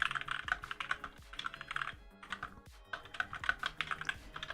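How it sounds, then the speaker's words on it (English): Loud computer keyboard being typed on quickly during a chess livestream, with close, crisp clacking keystrokes arriving in fast bursts separated by brief pauses, no voices over it. "I'm sorry for my very loud keyboard."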